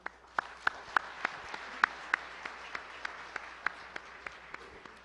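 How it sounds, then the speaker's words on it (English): Sparse, fairly faint applause at a gala banquet, distinct individual claps in a steady rhythm roughly three per second, sounding like a small group clapping at a distance. "please give Vice Mayor Kwon Young-gyu a round of applause"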